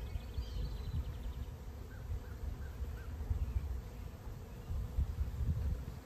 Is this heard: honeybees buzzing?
yes